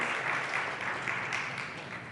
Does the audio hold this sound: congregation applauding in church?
yes